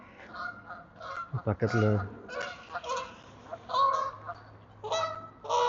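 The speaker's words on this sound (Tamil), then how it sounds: "வாத்துகள், பறவைகள் இதெல்லாம் இந்த இடத்துல வரும்." Several geese or ducks honk repeatedly in nasal bursts at moderate distance, with a brief word spoken partway through.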